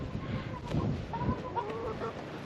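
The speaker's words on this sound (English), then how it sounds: "There's the chickens." Backyard chickens cluck in short, scattered bursts at close range over a steady low background hum, with no voices in between.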